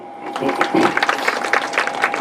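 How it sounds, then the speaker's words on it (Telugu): An audience at a Telugu satsang gathering bursts into loud clapping, a dense crackling patter of many hands that builds quickly and holds steady, with room echo around it. "ఒకసారి గట్టి క్లాప్స్ ఇద్దాం"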